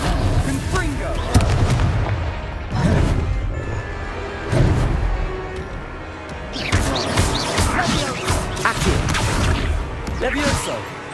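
Confringo explosive spell in Hogwarts Legacy combat, several loud booming blasts and crashes in an irregular sequence, mixed with a voice and battle noise throughout.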